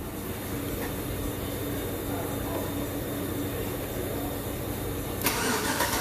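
A 2005 GMC Sierra pickup's engine cranks over on its starter, powered directly at the starter relay, with a steady rhythmic churning for about five seconds before a brief louder burst at the end.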